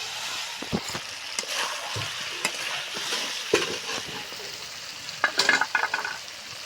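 Spice masala sizzles and fries in a pan while a spoon stirs and scrapes it, giving a steady close crackle broken by sharp clinks and scraping knocks.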